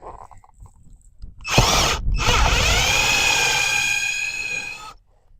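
Power drill driving a screw into a window shutter: a single sustained whirring run of about three seconds, loud and close, with a brief pause near its start, then cutting off abruptly.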